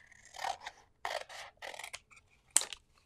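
Paper being cut in half with scissors in a crafting session, a few short crisp snips and rasping slides close by, with a sharp final cut near the end and no talk.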